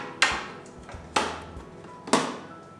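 Three crisp snaps, evenly spaced about a second apart, come from the locking clips of an AquaEL Ultramax 1500 aquarium canister filter. Each is a sharp, close plastic click with a short decay and no voices.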